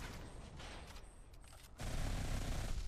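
The Hans and Gret gun fires in the video game Modern Combat 5 as rapid bursts of automatic gunfire, with short pauses between bursts before a louder, sustained stream of shots at the end.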